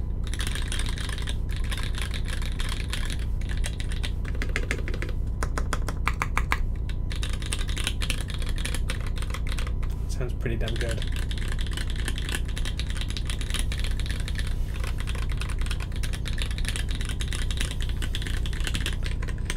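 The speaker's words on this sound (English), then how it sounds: "Typing sound. How did you guys like the sound of this one?" Typing on a mechanical keyboard built with a polycarbonate plate and carbon fibre, fast continuous clacking keystrokes close up with brief pauses, and someone speaks briefly near the end.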